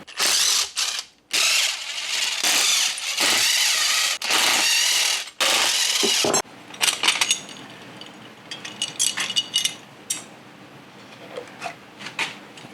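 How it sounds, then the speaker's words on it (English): A ratchet backs out 12 mm screws from a transmission case during disassembly, its pawl buzzing in long loud bursts with short pauses, followed by lighter clinks and tool handling nearby. "We're gonna go around and remove all the screws from the outside."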